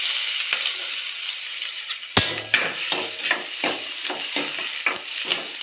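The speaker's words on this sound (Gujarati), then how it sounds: "આપણે પેલા ડુંગળીનો વઘાર કરશું." Chopped onion sizzles in hot oil with mustard seeds, cumin and garam masala for a tempering, a steady frying hiss broken by a sharp clang and then a regular series of stirring scrapes, close and alone.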